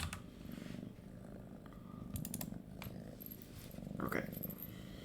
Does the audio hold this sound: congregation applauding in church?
no